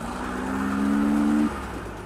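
A custom-frame Volkswagen dune buggy driving along, its engine droning steadily and rising slightly before the note suddenly drops as the throttle lifts, heard close and alone.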